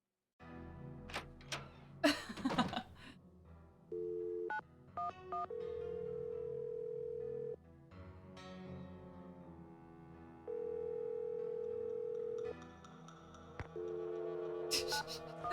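Telephone call sounds from the Nancy Drew: The Final Scene video game: a few clicky dial beeps, then steady electronic ringback tones in long sustained stretches with gaps between, fairly clear and without talk.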